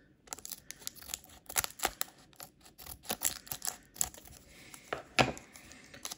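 Scissors snipping through a Japanese Pokémon 151 booster pack, a series of short, crisp cuts and crinkles close to the microphone, with brief pauses between them and no talking.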